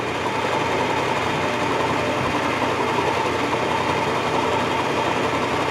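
Lathe running in gear while turning a steel kingpin bushing for an Austin, a loud steady mechanical drone with a rapid whirring rattle, constant and close with no talk.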